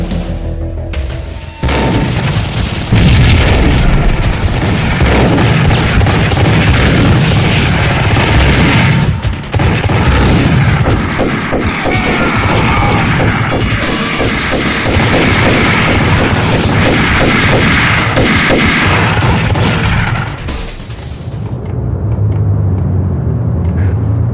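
Gunfire and heavy impacts in the 2001 PC video game Max Payne form a loud, dense barrage of rapid shots and booms that runs for about twenty seconds before cutting to a quieter rumble.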